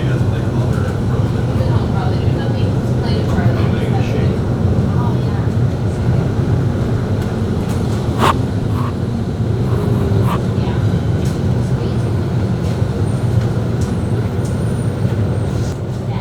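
Miami MetroMover people-mover train pulling into Brickell City Center Station, a loud steady low rumble and hum of the car throughout, with brief squeaks and clanks near the middle.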